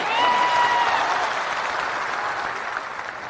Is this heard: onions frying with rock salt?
no